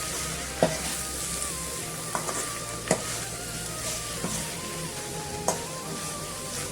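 Radish sabji with fresh coriander leaves fries gently in a pan, giving a low steady sizzle. Several sharp scrapes and clinks of a spoon against the pan break through as it is stirred. No one speaks.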